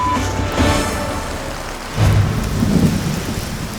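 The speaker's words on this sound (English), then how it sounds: "heavy rain forces Guy, Justine, and JD to stop down and build shelter to protect them from the storm" Heavy rain pours steadily while a thunderstorm rumbles, with a deep, loud roll of thunder swelling midway over the constant downpour; no voices.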